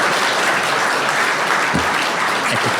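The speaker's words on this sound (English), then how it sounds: "Bryan Trottier, another round of applause." An audience applauds Bryan Trottier at an evening tribute event, with loud, dense, continuous clapping from a large crowd filling the room.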